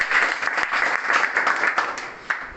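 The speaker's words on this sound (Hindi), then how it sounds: "इनके लिए जोरदार ताली बजाइए।" Applause from an audience at a review meeting with persons with disabilities, a steady burst of hand clapping lasting throughout with a few sharper claps standing out.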